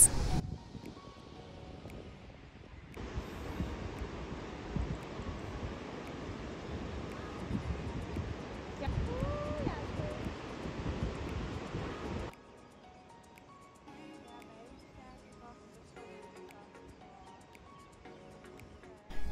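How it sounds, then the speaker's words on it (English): Ocean surf breaking along the coast at Aljezur, Portugal, heard from a hilltop as a steady broadband roar mixed with wind buffeting the microphone, dropping to a quieter wash near the end. "Literally just stood there for 10 minutes and watched the beauty of these surfing waves."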